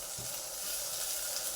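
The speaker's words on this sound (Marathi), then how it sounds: "अशा पद्धतीने हे भात मॅश करून घ्यायचा तुपामध्ये" Cooked rice is mashed and stirred in hot ghee in a pan, giving a steady soft sizzle with faint scraping from the stirring and no talking.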